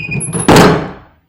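A door or tailgate on a 1998 Toyota T100 truck swung shut, giving one loud, close slam with a solid thunk that rings briefly and fades, with no talk.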